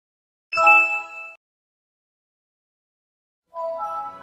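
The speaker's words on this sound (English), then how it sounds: "Stop the startup sound." Computer startup chime, a bright bell-like ding ringing out and decaying over about a second, followed after a silent pause by a second, softer tonal chime, clean and close.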